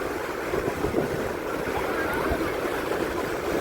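Sea waves rolling onto Cherai Beach at sunset on a crowded day, a dense continuous wash of surf mixed with wind buffeting the microphone, steady and loud throughout.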